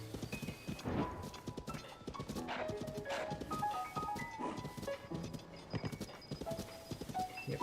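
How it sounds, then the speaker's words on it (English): A horse gallops in Zelda: Tears of the Kingdom, quick rhythmic hoof clip-clops running steadily throughout at moderate volume, with scattered game music tones over them. "This is a fine enough horse."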